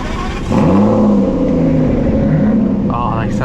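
A group of Aston Martin cars pulling away together on the Silverstone parade lap, a close, loud engine rumble that swells after a brief quiet start, with a higher whine joining near the end.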